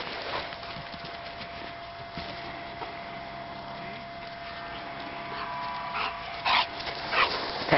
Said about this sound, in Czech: To je hodný pes.